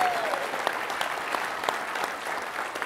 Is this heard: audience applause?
yes